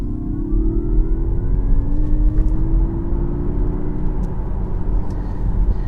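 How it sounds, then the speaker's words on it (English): A Mazda MX-30 electric car's low synthetic engine hum rises smoothly in pitch as if accelerating, steady and close, with road rumble underneath. "what the car also has is an engine noise, a fake engine noise"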